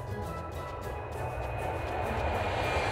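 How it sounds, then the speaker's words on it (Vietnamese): A fixed-wing airplane flying overhead, its engine a steady roar with a faint whine above it that swells gradually over a few seconds, heard alone without voices. "Máy bay bay trên bầu trời."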